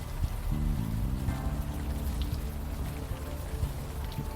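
Steady rain falls in the point-and-click adventure game Unavowed, a continuous patter of drops on surfaces under a low hum of background game music, with no talking.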